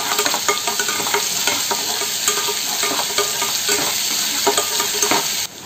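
Fried onion and a spoonful of ginger-garlic paste are stirred together in a hot pan, a continuous loud sizzle broken by repeated utensil scrapes and clinks.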